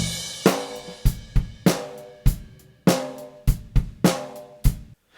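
Drum kit cleaned up with the Sonnox Oxford Drum Gate 2 plugin, playing about a dozen punchy, tightly gated kick, snare and tom hits in a steady groove with quick decays and little bleed between strikes, with no talking.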